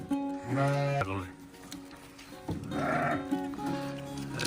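Goats bleating on a desert livestock farm, several short wavering calls close by, mixed with a person talking over them.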